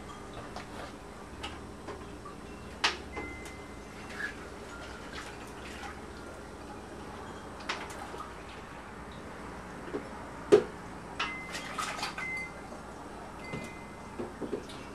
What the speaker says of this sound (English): Start stirring everything in, starting with the malt.